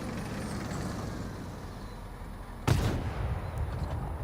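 A tank cannon fires once in a video game, a single loud booming blast midway through over a steady droning engine rumble.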